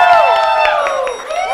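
A crowd at a live fan event cheers and applauds to welcome four young men, with loud, shrill, excited screams and whoops rising and falling throughout a short burst.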